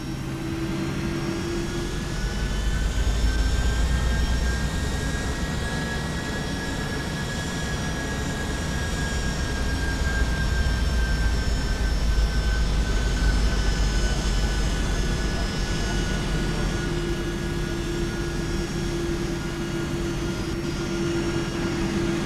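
A Boeing 757-200 jetliner taxis toward the runway in the X-Plane 11 flight simulator, its jet engines holding a steady loud whine and broadband rumble with a faint tonal hum throughout, without any voices.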